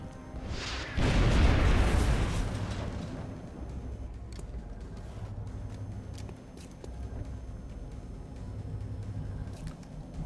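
A cyber disc's grenade blows up in XCOM Long War, a loud deep boom that swells and then thins into a rumbling tail under steady game ambience.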